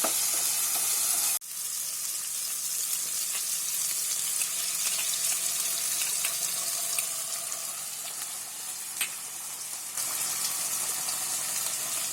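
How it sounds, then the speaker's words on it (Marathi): Gravy of capsicum, onion, ginger and garlic sizzles steadily in a pan while being stirred and mashed, a continuous close hiss with faint scraping throughout, no talking. "ही आपली ग्रेव्ही आहे ना अशी ढवळताना चांगली अशी मॅश करायची"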